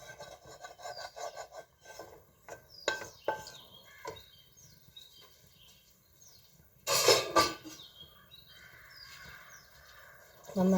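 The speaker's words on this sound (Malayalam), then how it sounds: "നന്നായിട്ട് ഇളക്കുക." A spoon scrapes and rasps against a cooking pot while masala paste is stirred into mutton curry, irregular scraping strokes with a louder burst of stirring near the end.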